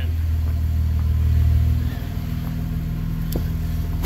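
A car engine running close by with a low, steady rumble that swells into a stronger rev, then eases back to a settled idle, with no talking.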